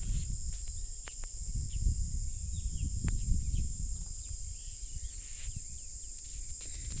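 A steady high-pitched insect drone fills the background, with occasional faint bird chirps scattered over low rumbling outdoor ambience.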